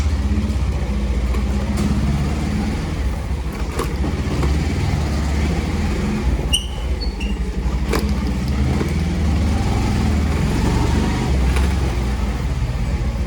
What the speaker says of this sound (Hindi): सुबह सुबह गलियों में इतनी सारी बाइक, उसमें से बीचों से निकलना कुछ अलग सा ही मूवमेंट आता है।